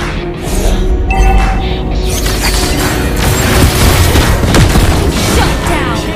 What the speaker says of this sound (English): Team destroyed the turret.